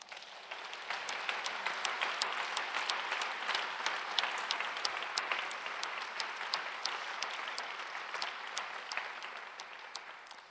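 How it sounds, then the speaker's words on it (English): A conference audience at a London tech event applauds steadily and loudly for about ten seconds, dense hand claps forming a continuous wash with no one speaking. "I think that's worth a round of applause."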